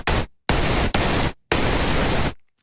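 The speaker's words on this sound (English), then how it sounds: "Pink noise, of course," Synthesizer pink noise from the u-He Hive 2 plays as three loud, steady hissing bursts. Each switches on and off abruptly, with brief silences between them.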